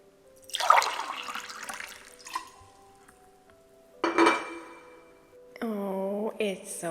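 Water runs and splashes in short bursts, a sudden gush followed by trickling and clinking, then a second splash and a rising tonal gurgle near the end, with quiet pauses between.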